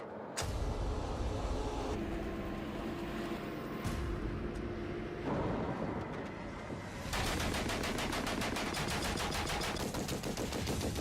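Rapid machine gun bursts rattle loud and continuous during a drill with a Greyhound armored car, the firing mixed with engine rumble and growing denser and sharper in the final seconds.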